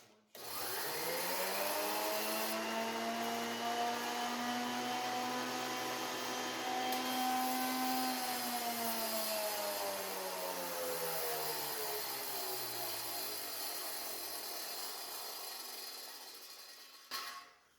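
Jointer machining the rough-sawn edge of a board, a loud whining motor hum with a cutting pass, its pitch dipping and sagging partway through before fading out, ending with a brief clunk.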